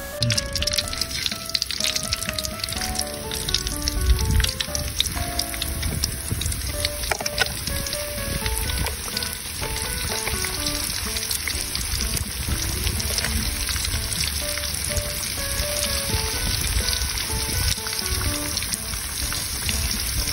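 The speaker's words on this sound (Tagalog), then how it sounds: "magsasalang na tayo ng pangalawang prito" Pork liver deep-frying as street food sends up a loud, dense, constant sizzle and crackle of hot oil, close and steady throughout, with no voices.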